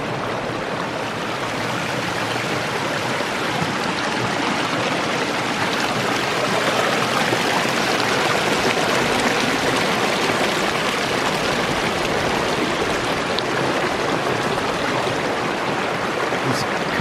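Mountain stream stepping down over small drops at dusk, a steady broadband rush of flowing water, close and continuous with no pauses.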